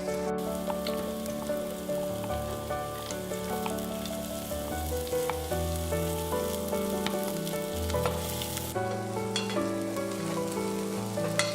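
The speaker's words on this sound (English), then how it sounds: "we'll add our minced garlic and half of our green onions and saute them until crisp" Minced garlic and green onions sauteing in hot sesame oil, a continuous soft sizzle heard faintly beneath steady background music throughout.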